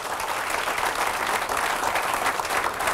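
Steady applause from an audience at a motivational training session in Mumbai, a dense continuous wash of clapping with no voices, moderately distant.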